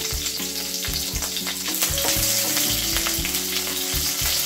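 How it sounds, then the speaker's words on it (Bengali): Four green chilies and a bay leaf sizzle loudly and continuously in hot oil, a dense close frying crackle with occasional stirring. "লঙ্কাটা আমি একটু ভালো করে ভেজে নেব"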